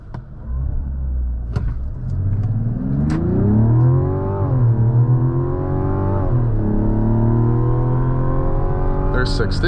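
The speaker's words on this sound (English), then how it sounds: "you can hear that incredible inline-6 sound" A 2024 Mazda CX-90 SUV with a 340 hp inline-six accelerating hard from inside the cabin, its engine note rising through the revs, dipping briefly at a gear change, then climbing again, loud and close throughout.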